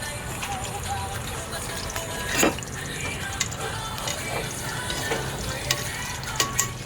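Pork frying for humba in canola oil in a pan, a steady close crackling sizzle with scattered pops and stirring scrapes, while a voice talks over it.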